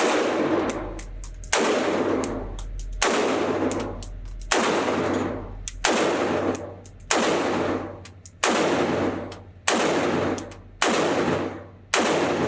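Nine loud, evenly spaced gunshots from a North Star Arms NS-15 rifle at an outdoor range, each sharp crack trailing off into a long decaying echo, about 1.4 seconds apart.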